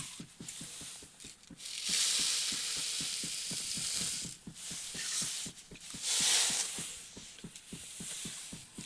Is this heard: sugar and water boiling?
yes